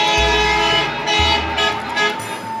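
Busy Cairo street traffic, loud and close, with a dense engine roar and repeated overlapping car and truck horns blaring in long blasts, one after another.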